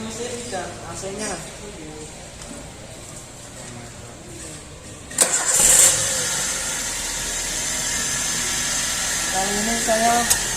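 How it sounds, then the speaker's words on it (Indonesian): A car engine cranks and catches about halfway through, then settles into a steady idle with the air conditioning switched on, in a workshop setting; a person talks faintly over the running engine early on. "Mas Didi, tolong nyalakan mesin dan AC-nya."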